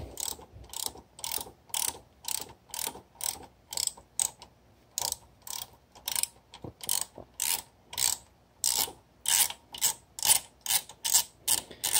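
A torque wrench ratchets repeatedly while tightening the alternator rotor bolt on a BMW Airhead motorcycle, a steady series of crisp, close clicking bursts lasting about twelve seconds with brief pauses between strokes and no talking.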